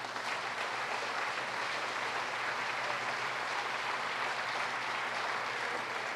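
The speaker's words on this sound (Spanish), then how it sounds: "denle un fuerte aplauso al Señor" A church congregation giving a loud, sustained round of applause, dense steady clapping from many hands filling the room without pause.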